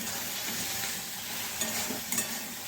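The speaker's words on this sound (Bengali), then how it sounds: "শাক ভাজা শেষের দিকে" Leafy greens (shaak) frying near the end of cooking in a hot kitchen, a dense continuous sizzle with a few soft stirring knocks, no speech.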